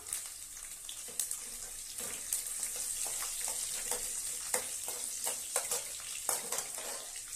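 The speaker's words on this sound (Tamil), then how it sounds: "ஒரு கைப்பிடி அளவு பூண்டு இதை இதில் எல்லாம் சேர்க்கிறேன். அப்படியே நல்லா வதக்கி விட்டுறலாம்." Oil sizzles steadily in a hot pan while a utensil stirs and scrapes, with sharper crackles and clicks scattered throughout, as a handful of garlic sautés up close for poondu kulambu.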